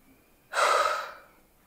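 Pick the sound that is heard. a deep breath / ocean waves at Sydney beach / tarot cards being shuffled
a deep breath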